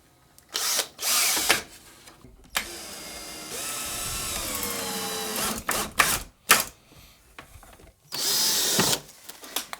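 A power drill drives 3-inch drywall screws into the wooden frame of a dumbwaiter, in several loud bursts of whirring with short pauses between them and one longer sustained run, close by.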